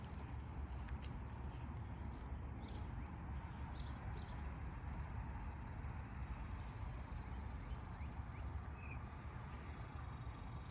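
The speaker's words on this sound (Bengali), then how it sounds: "পাখির কিচিরমিচির কিচিরমিচির শব্দ" Faint, scattered bird chirps come from a distance over a steady outdoor hiss of insects and ambience, with no voices.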